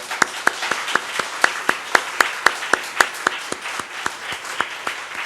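A church congregation claps in welcome for visiting guests from Denmark, a steady rhythmic clapping with regular sharp beats, fairly close and loud, no talking over it.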